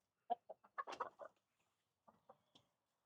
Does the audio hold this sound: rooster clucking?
yes